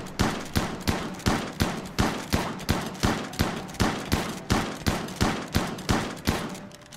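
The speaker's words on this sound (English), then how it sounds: "Linka, you have a shotgun, right? Get rid of this slate here." Shotgun blasts fired at a slate rock in the video game RimWorld, about sixteen loud evenly spaced bangs in steady rapid rhythm, each with a short decaying tail, no voices.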